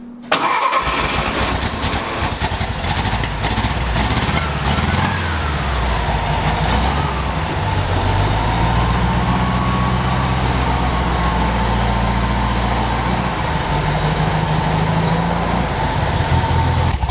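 An old 1957 Beetle engine, freshly fitted with a new battery, cranks briefly and catches, then runs at a loud, steady idle close by for a long stretch.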